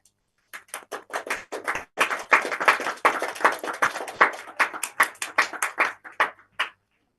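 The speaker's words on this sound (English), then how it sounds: "Let's give a big round of applause." An audience at a high school scientific conference applauds in patchy, uneven bursts that swell and then taper off before stopping suddenly.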